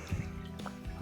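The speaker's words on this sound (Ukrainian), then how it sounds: "Наливаємо бонакву." Bonaqua still bottled water pours briefly into a container, a soft trickling and splashing heard close and quiet, without speech.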